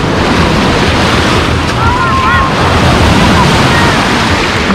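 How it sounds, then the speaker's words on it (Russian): Sea waves breaking on a beach at Lazarevskoye, a constant loud roar of surf mixed with heavy wind buffeting the microphone, with a faint whistle-like tone briefly in the middle. "Ну, сейчас волны слабые, ладно,"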